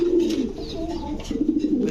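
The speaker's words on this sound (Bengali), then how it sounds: "একদম কুচকুচে কালো পুরো কাক কালো কবুতর" A pair of black fancy pigeons at a pigeon farm give soft, rolling coos close by, a repeated low throaty murmur lasting the whole moment with faint background noise.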